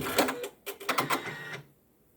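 A Janome embroidery machine steps its needle down and then back up, giving a short run of quick mechanical clicks and whirs, close and fairly quiet, ending in silence.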